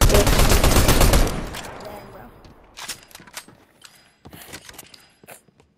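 Fortnite gunfire opens with a loud sustained automatic burst, then fades into scattered quieter shots and clicking mechanisms in the game.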